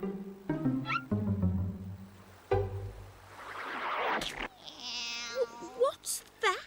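Black blob-shaped cartoon cats meow in a series of short rising and falling cries, several overlapping near the end, after a stretch of a character talking.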